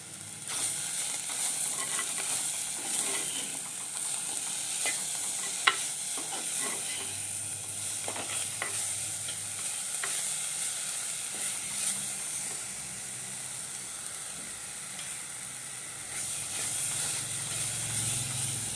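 Tomatoes fry in a pan for a squid curry, giving a steady soft sizzle and hiss with occasional stirring scrapes, close and even throughout with no talking.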